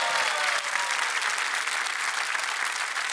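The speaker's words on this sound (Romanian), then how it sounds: "Aplauze pentru căpcăun!" The studio audience of Masked Singer Romania gives loud, continuous applause for the Ogre, with dense clapping and a little crowd noise holding steady throughout.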